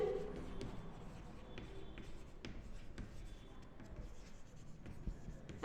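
Steady scratching and tapping of writing on a board during an accountancy class, continuing throughout at a close, moderate level with faint room noise.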